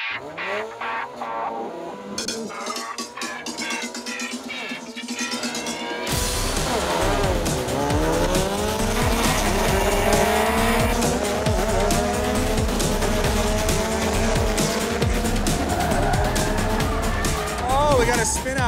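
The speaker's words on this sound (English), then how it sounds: "We got a spin out over here." Race car spinning out during a gymkhana grid race, with loud engine roar, rising revs and squealing tires, over a commentator's excited talk.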